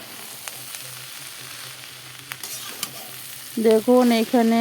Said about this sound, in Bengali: আরও কিছু সময় লাল করে ভেজে নেব